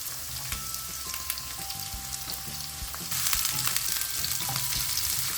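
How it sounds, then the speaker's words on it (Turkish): Steady sizzling of onion and garlic frying in oil left from fried eggplant, with occasional stirring clinks and scrapes; a faint tonal hum runs underneath, and the sizzle grows louder midway. "patlıcandan kalan yağın içerisine soğan ve sarımsağımızı atıp soteleyelim"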